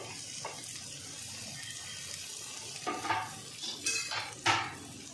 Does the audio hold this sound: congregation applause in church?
no